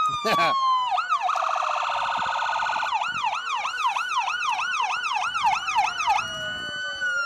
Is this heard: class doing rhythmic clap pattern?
no